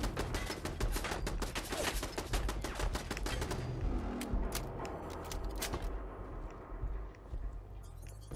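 Automated turret in Fallout 4 at the Corvega Assembly Plant firing rapid, sustained bursts of gunfire, loud and close, the rattle thinning out toward the end.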